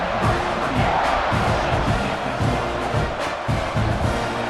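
A stadium crowd roars and cheers before a kickoff in EA Sports College Football 26, a dense, loud wall of voices with rhythmic surges, under play-by-play commentary.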